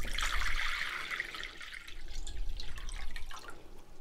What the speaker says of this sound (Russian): Я наливаю воду.